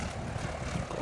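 Propeller airplane engine during a turn in flight, a steady low droning roar heard from inside or nearby, continuous and unbroken for about a second.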